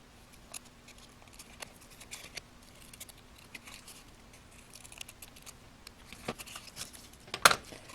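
Scissors snip paper into curved leaf shapes for a handmade flower crown book, a series of faint, sparse close cuts and light paper rustles, with a slightly louder crinkle near the end.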